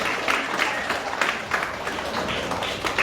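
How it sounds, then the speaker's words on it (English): An audience at a girls' mentorship forum claps continuously, a dense crowd patter with occasional louder individual claps standing out throughout. "Keep clapping, keep clapping."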